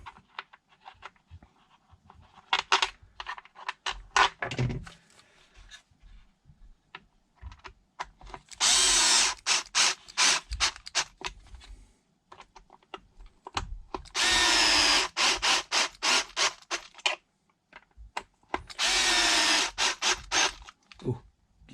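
A power driver sends long screws into plastic parts of a Traxxas XRT RC car, short whirring bursts between stretches of clicking and handling noise, close up with no talking.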